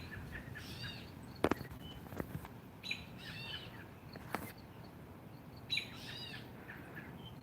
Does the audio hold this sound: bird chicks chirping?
yes